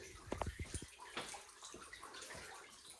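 Water running and trickling inside a cave, a continuous gurgling flow heard up close, opened by a few low knocks and bumps.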